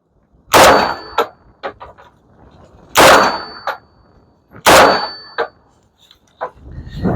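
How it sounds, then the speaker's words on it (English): An AK-47 rifle with its suppressor removed fires three loud, sharp reports a couple of seconds apart, each followed by a ringing metallic clang, with smaller clicks and handling noises in between, heard close outdoors. "now we'll see how it is with the suppressor off"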